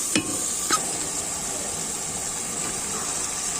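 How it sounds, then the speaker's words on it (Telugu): Chicken pieces going into a pan of hot ginger garlic paste, giving a steady sizzle of frying with a couple of brief stirring clanks near the start, close and continuous throughout. "ఇప్పుడు చికెన్ వేస్తున్నాం."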